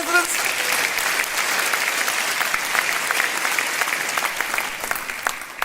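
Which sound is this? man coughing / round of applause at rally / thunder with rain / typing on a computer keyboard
round of applause at rally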